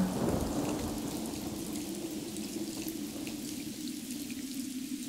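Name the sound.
thunderstorm with rain in a cartoon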